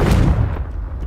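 A fiery Confringo spell blast from Hogwarts Legacy, a loud booming burst with a sharp onset and a rumbling tail that decays over about a second, alone without voices.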